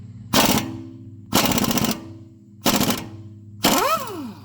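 Impact wrench or air gun removing lug nuts from the front wheels of a Toyota FJ Cruiser: four loud, close bursts of rapid hammering, each about half a second to a second long, over a steady low compressor hum, the last bursts winding down in pitch.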